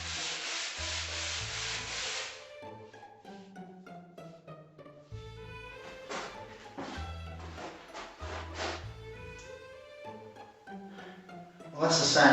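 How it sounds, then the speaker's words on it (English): Hand sanding of a wall in a family room, a steady, close scratchy rubbing that is loudest at the start and then continues in strokes beneath background music. "Well, that's the sanding done."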